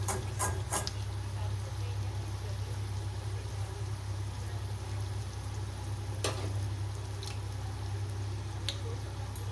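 Dahi vada batter balls fry gently in oil, a soft continuous bubbling sizzle with occasional sharper pops and spatters, close and steady over a low hum.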